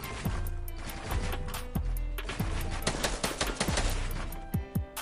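Rapid bursts of video game gunfire, machine-gun style rattles and single shots repeating loudly and close across the whole stretch, with no talk over them.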